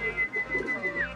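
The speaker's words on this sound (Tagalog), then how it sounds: "Apo yan na white flight ng Jasper Ong natin na bagong ibon." A white-flight racing pigeon coos softly at close range in a short, low murmuring burst, with a faint steady tone sitting above it.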